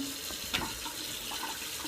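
Hot water runs steadily from a household tap in a continuous, close, even hiss with a brief splashy accent near the middle.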